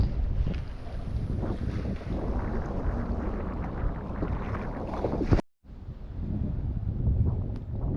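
Strong gusting wind buffets the microphone on the Fort Totten jetty in Bayside, Queens, a dense continuous roar that cuts out abruptly for a moment before resuming just as heavily.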